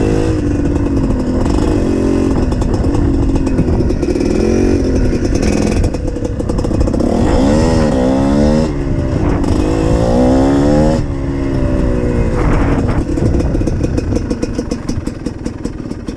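A GPX TSE 250R motorcycle engine runs steadily throughout a first ride, close and loud, with rising and falling revs as the rider accelerates and shifts through gears, and no talking.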